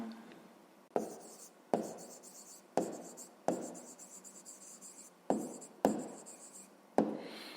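Writing by hand while working a fifth-grade maths exercise, a series of close, quiet pen or pencil strokes in short scratchy bursts, each starting with a tap on the paper, with no talk.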